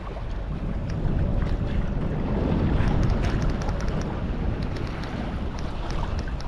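Strong wind buffets a fishing boat out on the sea, a loud, steady roar of broadband wind noise with water wash beneath, with no one talking.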